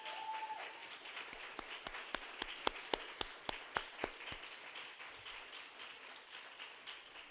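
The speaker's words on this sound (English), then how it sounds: "could we have a big round of applause to our wonderful coaches" A law school audience at a closing ceremony gives the coaches steady applause, with a run of sharper, louder nearby claps standing out in the middle before the clapping settles into an even patter.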